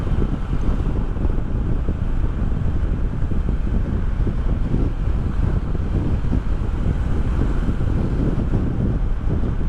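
Steady wind roars past a microphone along a tree-lined forest trail by a mountainside, a dense, constant rumble and hiss with no breaks and no voices.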